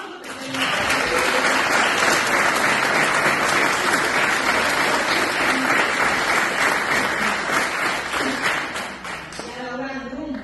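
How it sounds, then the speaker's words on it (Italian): An audience at a community gathering claps loudly and steadily for about nine seconds, starting abruptly and then tapering off, with a speaker's voice coming in as the applause fades. "Un grande applauso"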